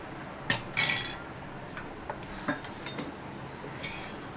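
A metal spoon scrapes and clinks against a pot of mutton curry a few times, with a brief sizzle-like hiss, then quieter taps, near and fairly faint.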